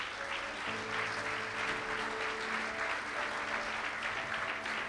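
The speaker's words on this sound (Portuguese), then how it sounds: "Quantos podem dar um aplauso ao Senhor por sua palavra?" A church congregation gives loud, sustained applause during a Spanish-Portuguese sermon. The clapping is continuous and full, with faint tonal sounds held underneath it.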